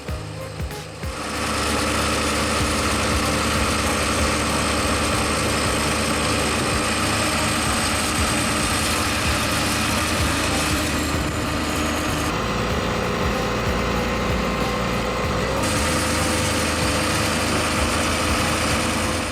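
A heavy tractor stuck in mud while dragging a plow roars steadily and strains for a long stretch as its tires spin, loud and close, with no talking.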